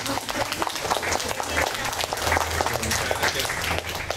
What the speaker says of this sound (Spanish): Con un caluroso aplauso, recibamos al doctor Castañeda.